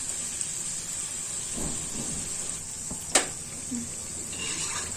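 Vada fritters for Malvan-style vada pav fry in hot oil over a lowered flame, giving a steady close sizzling hiss broken by a single sharp tap.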